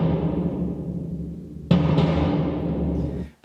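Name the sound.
loaded bass drum sample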